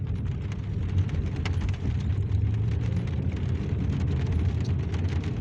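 Steady, heavy flood-level rain pouring down with a dense rumbling wash, unbroken throughout and close by.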